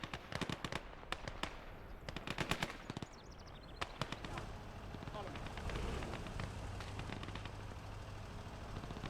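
Sniper rifle fire in the WWII strategy game Gates of Hell: Ostfront: sharp cracking shots, several in quick clusters early on, over rumbling battlefield ambience and a low engine drone.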